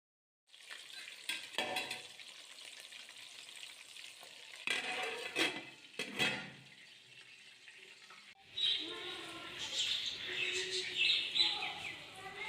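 Flour-coated KFC-style chicken sizzles and crackles in hot oil, a loud bubbling hiss that comes in bursts and then settles into continuous frying.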